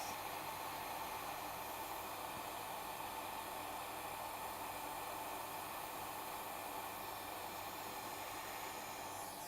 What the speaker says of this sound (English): we're going to heat up this area. Heat it up just enough to loosen up any of that burnt flux